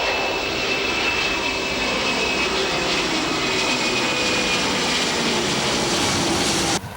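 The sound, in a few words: airplane engine during takeoff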